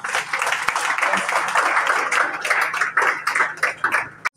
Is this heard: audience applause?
yes